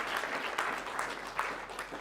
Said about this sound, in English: Their enthusiasm gets less every time they clap for you, Mark.